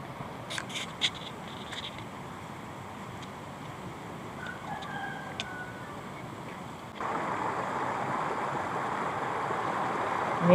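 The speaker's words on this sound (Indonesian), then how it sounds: "air dari atas gunung dia langsung meluap menuju ke Sungai Bolango" Rushing water of the Bolango River swollen after rain, a steady broadband wash that grows louder and nearer partway through, with a few faint bird calls over the top early on.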